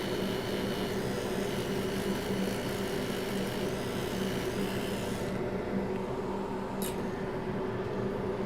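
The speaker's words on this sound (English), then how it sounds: "time to get the toothy brushy out and start scrubbing" A brush scrubs a MacBook A1502 2015 Retina logic board close up, a continuous bristly rubbing and scratching texture that stays steady throughout with no talk.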